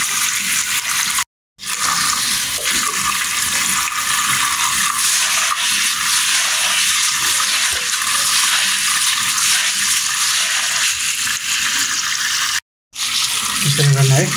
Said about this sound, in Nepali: ट्याङ्कीको पानीले होइन, भाँडाको डाइरेक्ट पानीले सफा गरिदिनु।